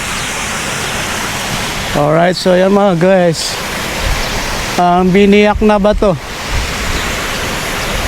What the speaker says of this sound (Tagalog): At umagos ang tubig.